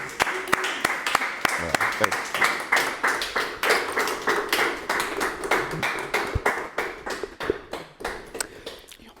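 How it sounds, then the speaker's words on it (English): A room of people gives a round of applause in a steady rhythmic beat, loud and close, with the claps landing in even unison pulses for several seconds and a voice briefly audible underneath. "Round of applause, guys, for Mr. Reed, please."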